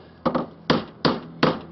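A hammer drives a roll pin out of a Datsun differential on a workbench, striking four sharp metallic blows at a steady, deliberate pace, each one ringing briefly. The blows are close and loud, with a faint hum underneath and no talk.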